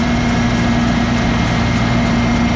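A GEHL 100 engine running steadily at about 1800 RPM, a loud, constant droning hum with a strong low tone and no change in pitch throughout.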